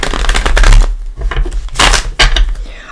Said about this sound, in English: Already pre-shuffled, but we'll give it a couple shuffles.